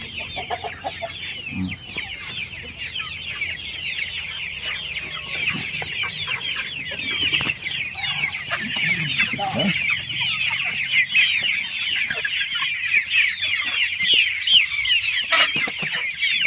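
Free-range native chickens cluck continuously while feeding, a dense chorus of overlapping close-up calls that keeps going throughout.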